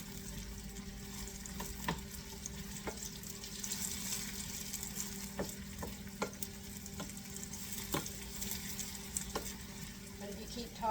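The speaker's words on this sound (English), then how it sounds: "That's why I'm stirring them, trying to keep them from browning." Onions fried in a pan to keep them pale, with steady close sizzling under regular spatula stirs and scrapes that tap the pan every second or so.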